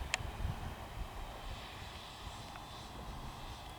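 Taft Hobby Viper Jet V3, a 90mm EDF model jet on 6S power with full flaps deployed, whooshes past at a distance in a steady, fairly faint turbine-like hiss that holds level without talk.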